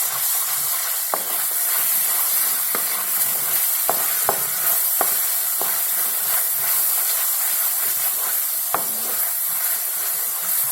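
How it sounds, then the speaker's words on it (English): Ginger garlic paste sautéing in hot oil for a momo filling gives a steady, close sizzle with hissing steam, broken by a few sharp clicks of a utensil stirring through the pan. "After the oil is hot enough or warm enough, I'm adding in the ginger garlic paste. Saute it for about 2 seconds."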